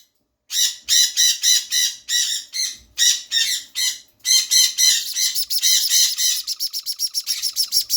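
A baby sun conure squawks in a rapid series of harsh, loud calls, close by, the cries speeding into quick rhythmic chirps toward the end.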